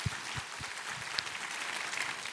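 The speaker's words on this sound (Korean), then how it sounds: "우리 하나님께 감사와 영광의 박수 올려드렸습니다" Congregation clapping at a church worship service, a soft, diffuse patter of many hands sustained throughout, fairly distant and modest in level, with a few low thumps beneath.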